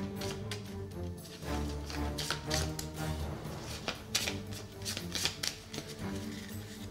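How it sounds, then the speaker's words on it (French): Trap cards for the Dungeon Crusade board game being shuffled by hand: quiet, close, rapid riffling and tapping in uneven bursts, steady for several seconds with no speech. "je mélange toutes les cartes trap"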